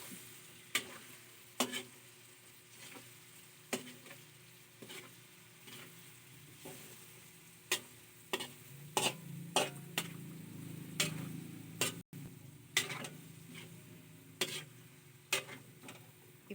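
Chicken pieces sizzle softly in a pan with onion and garlic, with sharp clicks and scrapes from stirring at irregular intervals and a faint background hiss.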